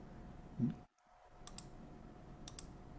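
Faint computer mouse clicks come in quick double taps, two pairs spaced about a second apart, over a quiet room hum with no speech.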